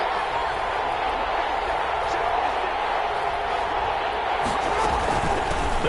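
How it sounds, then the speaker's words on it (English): Stadium crowd roaring in a football video game between the Ravens and Chargers, a steady wall of crowd noise with a commentator talking over it. "That just means this crowd's going to get even louder."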